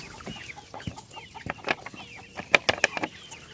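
Chickens cluck in a homemade wooden coop, a close series of short, uneven clucks and squawks that bunch up toward the end, with no voices.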